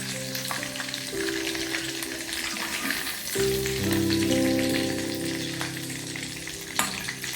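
Spice paste for a paneer dish fries in hot oil in a pan, giving a loud, continuous close sizzle with occasional stirring scrapes and no talk.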